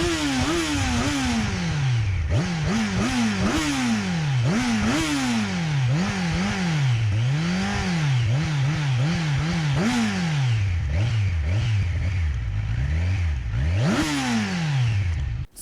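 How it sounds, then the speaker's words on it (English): Kawasaki Ninja 1000SX, a 1000cc inline four-cylinder with an updated single-can exhaust, revved repeatedly close up: loud rising and falling blips of the exhaust note over a steady idle, with no talking. "let's hear the exhaust note of this bike"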